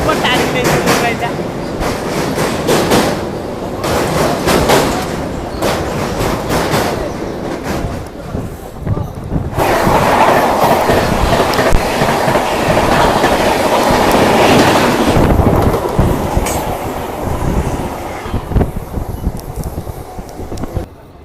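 A crowded local train runs between Kharagpur and Howrah, a continuous loud clatter of wheels on rails with rhythmic clacks and rushing noise, mingled with passenger chatter throughout.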